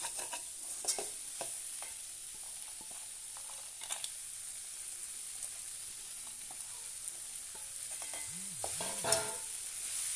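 Quiet, steady frying hiss as coconut is stirred in a pan, with intermittent light spatula scrapes; occasional faint clinks, no speech.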